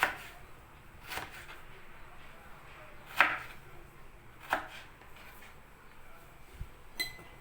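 A few sharp knife strikes on a cutting board, spaced irregularly, with quiet pauses between them and faint background clatter.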